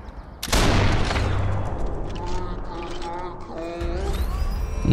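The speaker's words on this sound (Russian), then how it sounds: "Может, разве что выстрел поможет." Rifle shot in the video game Sniper Elite 4, a sharp loud blast near the start followed by a long rumbling echo and tail, with someone speaking over it.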